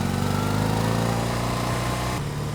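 A BMW R18 Bobber 100th Anniversary Edition motorcycle is ridden on open roads, its engine humming steadily at cruising speed, loud and close, with a slight shift in tone near the end.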